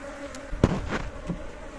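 Honeybees hum faintly around a homemade horizontal Langstroth beehive, a soft low drone broken by a few brief knocks and handling clicks.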